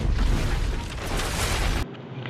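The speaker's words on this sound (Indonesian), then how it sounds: "Setelah mereka pergi, rumah si Gibson pun meledak." A house explodes in a loud, rumbling blast with heavy low-end boom and crackling debris, then cuts off abruptly to quieter background noise.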